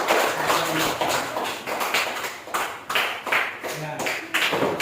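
A class of students applauds group 3 in a Christian religious education lesson. Close, rapid clapping from many hands rolls on in uneven waves throughout, with a voice speaking over it.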